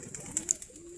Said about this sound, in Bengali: বৃষ্টির মাঝে সবগুলা কবুতর খোপের কাছে যে বসে থাকতেছে